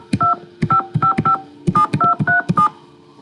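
Touch-tone dialing of a telephone number in a Nancy Drew computer game, a quick run of about a dozen clean, loud DTMF beeps in two bursts with a short pause between.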